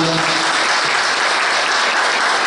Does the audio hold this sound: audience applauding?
yes